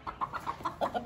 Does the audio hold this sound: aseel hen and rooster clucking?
yes